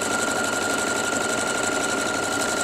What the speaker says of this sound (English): Now I'm using the medium speed on my sewing machine